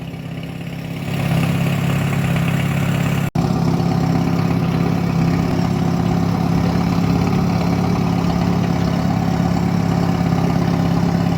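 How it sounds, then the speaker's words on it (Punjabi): A tractor engine idles at a steady low rumble, loud and close, continuous throughout apart from a brief click early on, at a paddy harvest with a trolley and harvesting machine nearby. "ਟਰੈਕਟਰ ਟਰਾਲਾ ਤੇ ਮਸ਼ੀਨ ਆ ਚੁੱਕੀ ਹੈ"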